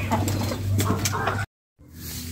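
Village-kept domestic pigeons coo in a steady low murmur alongside scattered brief calls, the sound breaking off into a short silence before resuming more faintly.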